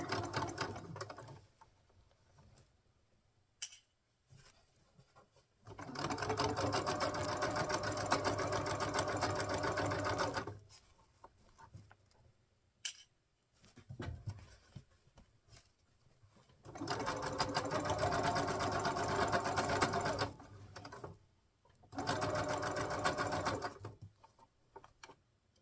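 A sewing machine stitches the seams of a windmill-pattern crossbody bag in three steady bursts of rapid, even whirring, close and fairly quiet, separated by pauses filled with soft handling noises.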